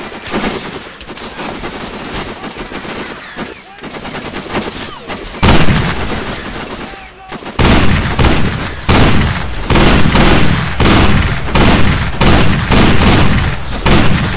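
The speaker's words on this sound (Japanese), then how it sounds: "そもそも敵がどっから撃ってるか分からんねんこれ、このゲーム。" Enemy gunfire in the video game Sniper Ghost Warrior comes as dense, loud bursts of rapid shots and booms, swelling into near-continuous firing in the second half.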